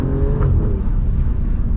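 A model year 2020 Alfa Romeo Giulia Quadrifoglio on the move, its exhaust giving a loud, close, rumbling low drone with a brief rise in pitch, steady and unbroken with no talk.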